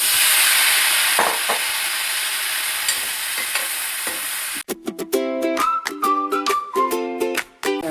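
Mushrooms frying in a pan for a Kerala-style mushroom theeyal curry, a strong close sizzle with stirring scrapes, then a sharp cut to clattering tones and pulses toward the end.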